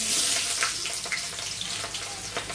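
Hot mustard oil frying for a chicken biryani gives a dense, steady sizzling hiss with scattered pops and crackles, close and fairly loud throughout, with no speech.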